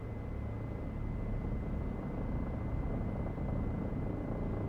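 A Bell 407 helicopter in X-Plane 11 gives a steady, dense rotor and turbine drone with a constant whine on top, loud and unbroken throughout with no voices.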